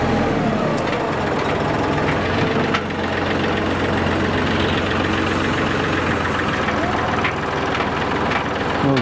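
A tractor engine in four-wheel drive rumbles steadily at close range, a low continuous drone with some knocking texture throughout.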